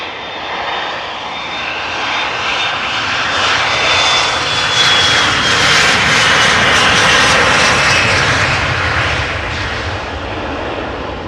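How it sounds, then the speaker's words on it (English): An Embraer 175 jet departing Amsterdam Schiphol for Southampton: a loud, sustained engine roar that builds to a peak mid-way and then eases slightly, a steady broadband rumble with no voices. "Embraer 175 going to Southampton"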